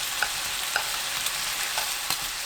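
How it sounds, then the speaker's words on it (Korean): Sliced honeycomb pork belly simmers in sauce on low heat, giving a continuous soft sizzle with small bubbling pops spread through it. "약불에서 양념이 사라질 때까지 졸입니다."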